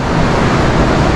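South China Sea surf rolling in, a steady broadband roar of waves mixed with wind buffeting the microphone, loud and close with no voices.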